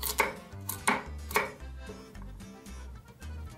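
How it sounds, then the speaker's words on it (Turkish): A knife chops carrots on a cutting board in a run of sharp, evenly spaced knocks, close up, with no talking. "Havuçlarımı mümkün olduğu kadar küçük doğrayacağım."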